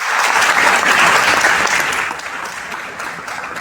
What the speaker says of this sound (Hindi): एक बार जोरदार ताली बजाइए आप उससे टीम के लिए